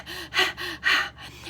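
Quick shallow gasping breaths come close and loud, three or four sharp inhalations in an uneven rhythm with short pauses between.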